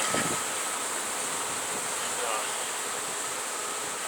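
Dense, steady buzzing of many bees at a hive on a swing set fills the air continuously, close and fairly loud, with no pauses.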